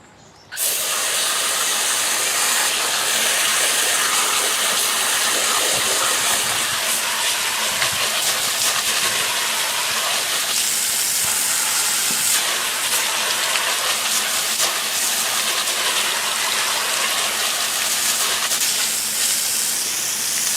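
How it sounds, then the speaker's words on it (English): Hard spray of water rinsing an AEM air filter, a loud, steady hissing gush that starts abruptly and holds throughout; no talking. "Again, soap and water, and then we'll do our final rinse"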